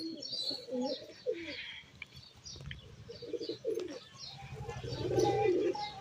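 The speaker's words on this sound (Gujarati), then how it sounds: "તમને દેખાડ્યું કેવા કબૂતર દેખાય છે" Pigeons on an upper rooftop terrace give soft, repeated cooing calls with occasional chirps, fairly near and moderately quiet, scattered across several seconds over light background noise.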